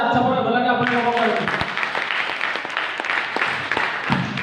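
Audience applause at an Assamese marketing plan presentation: a dense burst of clapping that follows a short voice at the start and continues steadily, moderately loud, to the end.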